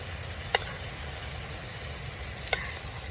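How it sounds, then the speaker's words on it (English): A wagyu ribeye or strip steak sears in butter, giving a steady close hiss of sizzling fat under a low background hum, with two brief sharp taps or pops about two seconds apart. "Listen to that sizzle."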